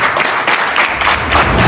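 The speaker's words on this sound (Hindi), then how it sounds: "इनके लिए एक बार जोरदार तालियां बजा दें" A crowd of listeners claps loudly and steadily at a motivational business gathering. The applause is a dense, continuous roar of hands with small swells, alone with no talking.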